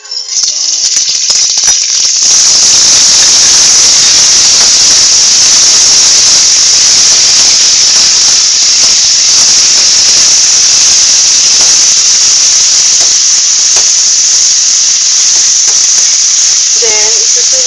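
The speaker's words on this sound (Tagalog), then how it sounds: "Igigisa natin yung basil." Basil sautéing in hot cooking oil in a pan for lumpia noodles, a loud, steady hiss and sizzle running throughout, with a brief rattle near the start.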